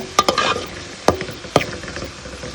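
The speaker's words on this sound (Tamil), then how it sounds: "நல்லா வதக்கி விடுங்க" Onion and tomato with fennel sauté in a hot pan, a soft continuous sizzle punctuated by three or four sharp scrapes and taps of a spoon stirring, up close.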